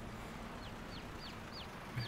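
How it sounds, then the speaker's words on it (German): Virtual chickens in Landwirtschafts-Simulator 22 give short, faint clucks in a regular series of about five calls over a low, steady background hum. "ich passe nebenbei noch auf die Hühner auf"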